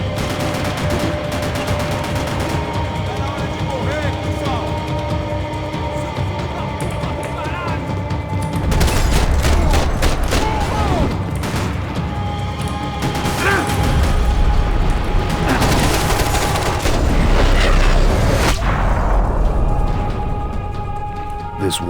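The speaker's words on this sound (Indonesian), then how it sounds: "Siapa yang nembak sih?" Sustained video-game gunfire from Max Payne 3 rattles on for about twenty seconds in dense, loud bursts of rapid shots and crashes, with voices talking amid the shooting.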